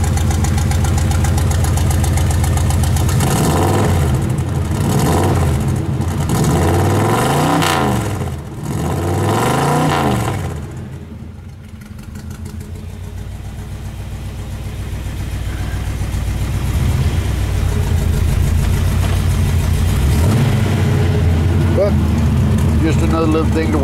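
A 1975 Chevrolet G20 van that has sat unused for a while idles roughly with a loud, uneven engine rumble throughout, surging and dipping midway before settling back into a steady lumpy idle.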